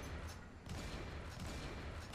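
Shotgun fire in the mobile game Pixel Gun 3D, a few sharp blasts over a dense layer of game noise and explosions, loud and busy throughout.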